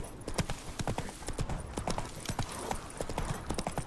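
Horse hooves clip-clop in a steady rapid rhythm while riding in The Witcher 3, a continuous trotting pattern with faint game ambience and no talking.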